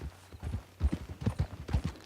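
Hooves clip-clop in a quick, regular gait as a horse is ridden in Red Dead Redemption 2, close and clear with no talking.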